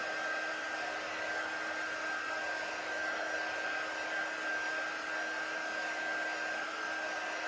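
Hair dryer drying a DIY project, running as a steady, close whoosh with a thin constant whine, unbroken throughout with no talking.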